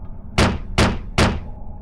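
Three firm knocks on a door, evenly spaced about half a second apart, each a sharp thud that rings briefly in a quiet room.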